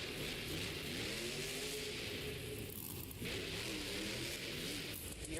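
Earthshaker monster truck engine revving at a Monster Jam international series event, a loud, continuous roar with rising and falling pitch that holds steady throughout, with crowd and arena noise mixed in.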